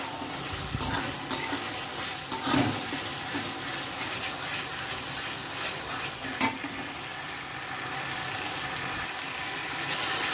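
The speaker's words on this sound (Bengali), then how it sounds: "মশলাটা ভাজা হয়ে এসছে বন্ধুরা" Spice masala fries in a pan with a steady hissing sizzle, broken by a few sharp clanks and scrapes of a spoon stirring against the metal.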